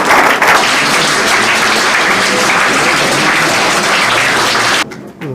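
A crowd at a formal student-selection function gives loud, steady applause to welcome guest Khushwant Singh, a dense continuous clapping that holds evenly, then drops off sharply near the end.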